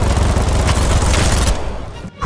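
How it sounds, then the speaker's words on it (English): A Kriss Vector submachine gun rips off a loud, dense, very fast stream of automatic fire in Battle Bit, then cuts off into quieter trailing noise. "The Kriss Vector. Just like the MP5, this submachine gun shreds and has the second fastest fire rate to the L86A1"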